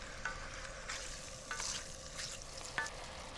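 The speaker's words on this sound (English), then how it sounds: "really this is about softly braising rather than frying" A steady, soft sizzle and bubbling of squid and fennel braising gently in a pan, with occasional faint clicks of a utensil.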